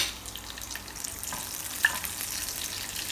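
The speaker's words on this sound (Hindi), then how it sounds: "जीरा डाल के मैं कड़ी के अंदर तड़का लगाऊंगी।" Cumin seeds sizzling in hot oil for a tempering of Gujarati kadhi, a steady bright crackling hiss with a few small pops, close and alone.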